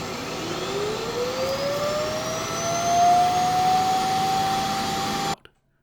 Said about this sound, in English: the self-emptying process is pretty loud